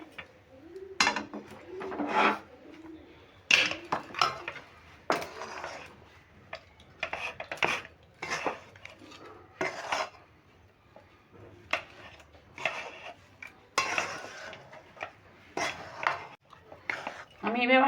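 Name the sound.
stirring rice flour and lentil mixture in a wok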